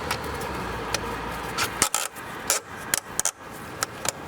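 Straps being pulled and fastened around e-bike wheels on a rear-mounted bike rack, a run of close rasping, rubbing and clicking strokes with a few sharp tugs, heard alone.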